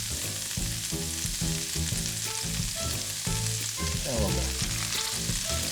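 Shallots frying in a Ninja Foodi pot, a bright continuous sizzle with crackling spatter, steady and close with no speech over it.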